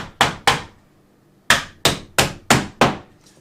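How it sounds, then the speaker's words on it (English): Seven hard hammer blows punch through a metal flange during construction work, two quick strikes then a pause and five more in steady rhythm, loud and close with no talking. "I'm just going to punch right through the flange right here."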